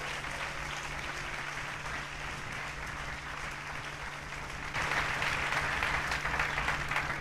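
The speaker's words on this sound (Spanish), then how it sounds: "Dale ese aplauso con vida al Señor." A church congregation at an evangelical conference breaks into sustained applause, a continuous wash of clapping that swells noticeably louder partway through, with a low steady hum beneath.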